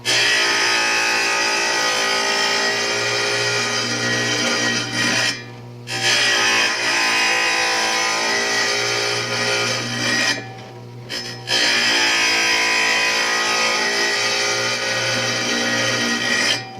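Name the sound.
wet saw cutting tile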